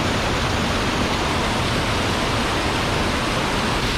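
A big roaring waterfall plunging down a rocky gap among boulders, heard as a loud, steady wash of broadband rushing water that holds constant from start to finish with no voices.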